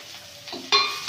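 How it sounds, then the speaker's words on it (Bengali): Onion drops into hot oil already frying a bay leaf and dried chili, setting off a sudden loud sizzle that swells in bursts with a scrape or two, close and brief with no talking. "লঙ্কা আর তেজপাতাটা ভাজা হয়ে গেছে, পেঁয়াজটা দিয়ে দেবো।"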